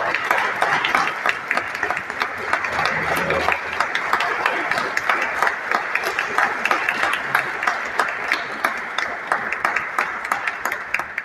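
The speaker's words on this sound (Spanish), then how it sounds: "un aplauso para Otto Apuy" Sustained applause fills an arts critics' award ceremony in Costa Rica as a prize is presented to Otto Apuy, the dense clapping continuing evenly throughout, with some voices faintly underneath.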